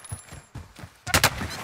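A video game gunshot scene has a few soft, muffled thumps followed by two sharp, loud, close shots in quick succession near the end.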